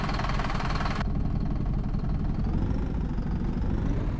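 A bus engine in the OMSI 2 driving simulator runs steadily with a loud, rough, rattly drone, constant and alone with no voices.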